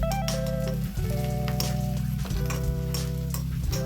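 Onions sliced into rings frying in a pan for a special stew, a steady sizzle heard under loud sustained music.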